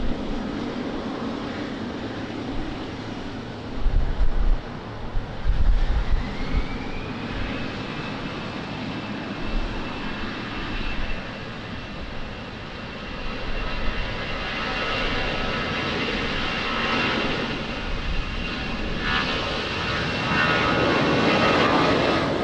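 An airliner on its takeoff roll from runway 20 at Lisbon Airport on a rainy day, its jet engine roar building from a distant rumble to a loud sustained whine with a rising tone, with no voices.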